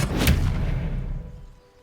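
An Expelliarmus spell cast in Hogwarts Legacy: a single booming magical blast with a sharp attack, then a rumbling tail that fades out over about a second and a half.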